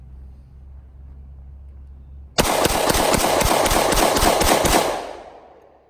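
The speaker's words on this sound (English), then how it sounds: "Let's do another mag dump." A Gen 2 Glock 20 10mm pistol fires a rapid magazine dump outdoors, with a loud burst of about a dozen quick shots in close succession following a quiet pause, then a decaying echo.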